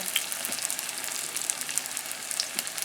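Filipino lumpia rolls, several at once, deep frying in hot oil, giving a quiet continuous bubbling hiss with small crackling pops throughout, no voices.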